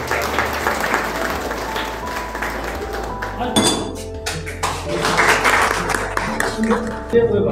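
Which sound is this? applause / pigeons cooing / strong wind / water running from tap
applause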